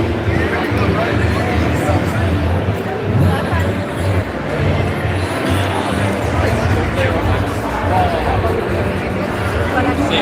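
Dense, continuous crowd chatter at a barber battle event in Toronto, a loud indoor babble of many overlapping voices with nearby talk throughout.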